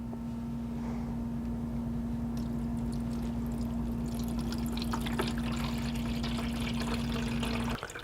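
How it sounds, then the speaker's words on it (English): Water is poured into an AeroGarden hydroponic reservoir, a steady liquid splash running for about eight seconds over a constant low electrical hum, close and even in level, with no talking. "Continue pouring until you reach the fill to here indicator."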